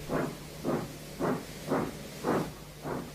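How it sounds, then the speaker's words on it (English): A steam engine puffs away with six rhythmic chuffs of steam, evenly spaced about half a second apart, each a soft breathy whoosh over a low steady hum, with no voices. "So the fireman lit the fire and made a nice lot of steam."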